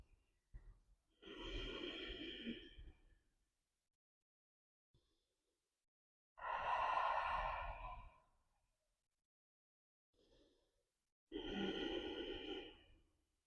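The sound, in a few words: breathing in and out during yoga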